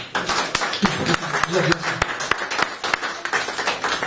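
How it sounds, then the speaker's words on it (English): A church congregation claps for Jesus Christ with a rapid, uneven run of claps, and voices mix in under them. "Come on, clap for Jesus Christ."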